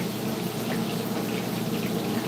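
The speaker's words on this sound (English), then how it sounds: "you can hear the bacon grease dripping away." Bacon cooking in a pan over low heat, its grease dripping and sizzling in a dense, continuous, close crackle with no talk.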